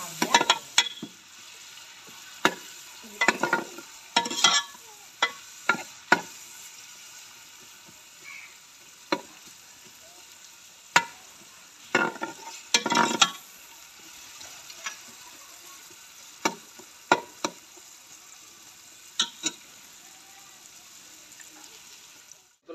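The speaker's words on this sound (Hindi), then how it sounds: "प्याज डालेंगे, प्याज ब्राउन हो जाएगा।" Chopped onions frying in oil for a chicken karahi, a soft steady sizzle broken by repeated sharp clatters of a utensil against the pan, close up with no voices.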